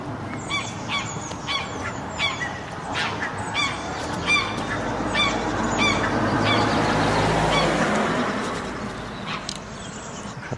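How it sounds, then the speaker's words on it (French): Geese at a château honk repeatedly in short, loud bursts, several birds calling in uneven rhythm close by, over a low steady background rumble that swells midway. "Le château est bien gardé, hein, avec tous ses oies."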